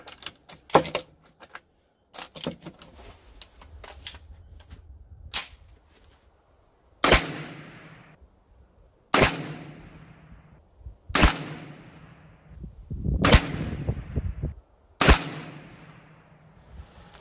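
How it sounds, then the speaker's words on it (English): A Primary Arms FM9 pistol-caliber carbine fires at a range, five loud, sharp, evenly spaced shots about two seconds apart with short echoing decay, following quieter handling clicks and knocks. "So let's take another 5 shots, see how it goes."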